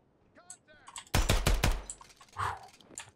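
A rifle is hip-fired in the tactical shooter Ground Branch: a close, loud rapid burst of about four shots, with faint rustling and movement before and after.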